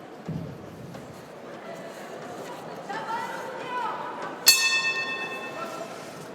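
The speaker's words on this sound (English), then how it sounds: "And the opening bell sounds to get us underway." Opening bell of a women's world championship boxing semi-final, a bright ring struck near the end over arena crowd murmur and a commentator's voice.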